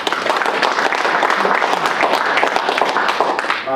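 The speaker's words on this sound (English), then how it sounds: "So big round of applause to all the committee members, please." A press conference audience at the 30th anniversary Beast of the East event applauds the committee members, with dense, steady clapping filling the room for the whole stretch.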